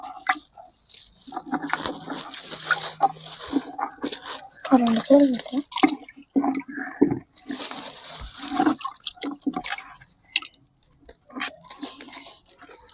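Freshly harvested turmeric roots being washed by hand in water, with splashing, dripping and sloshing under steady talk from several people.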